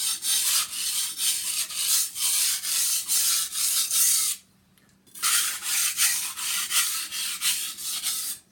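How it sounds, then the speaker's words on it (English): Kitchen knife being deburred during freehand sharpening, giving loud, even, rhythmic scraping strokes close up, broken by one short pause before the strokes resume. "what I'm doing now is removing the burr as best as I can"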